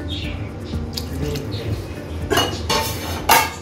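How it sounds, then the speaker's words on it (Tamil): Metal clanks and clinks of a lid set onto a pot of vegetable gravy, a few sharp knocks over soft kitchen background noise. "இப்போ ஒரு மூடி போட்டு மூடிடலாம்"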